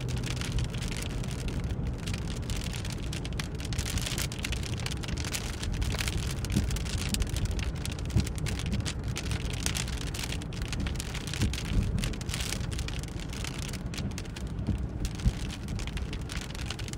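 Heavy rain pours steadily and densely for the whole stretch, a loud, unbroken hiss of falling water with no voices.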